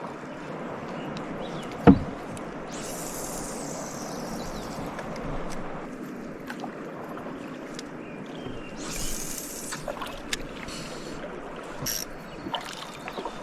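Canoe paddled downriver in Wabakimi wilderness, soft dips and swishes of paddles and trickling water around the hull, with a knock near the start and occasional splashy strokes, close and fairly quiet.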